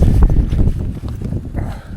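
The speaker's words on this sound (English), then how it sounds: "so windy" Strong wind on an island in Okinawa rumbles and thumps against the microphone in loud, irregular gusts, easing slightly midway before picking up again.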